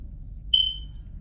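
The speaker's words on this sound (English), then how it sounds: "Oh, you guys can hear the fire alarm?" A fire alarm sounds one high-pitched electronic beep about half a second long. It is moderately loud above a low background hum.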